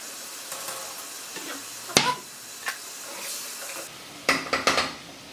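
A spoon stirs spaghetti sauce in a pan after salt goes in, with soft scraping and a low sizzle, punctuated by a sharp clink and a cluster of metallic taps near the end.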